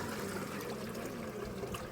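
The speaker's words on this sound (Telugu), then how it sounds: "వాటర్ వేస్తున్నాం." Water pours into a pot holding fried masala and tomato for bagara rice, a brief steady splashing rush at moderate distance.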